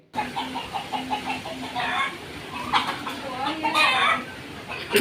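A chicken clucks in a steady, rhythmic series in a home garden, close and moderately loud, followed by rustling and scattered background noise.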